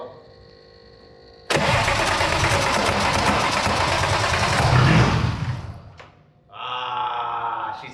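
A BMW E34 525iT with a manual gearbox swap cranks and fires into a loud, rough engine roar that holds for several seconds, then dies away. A second shorter cranking attempt follows, with no talk.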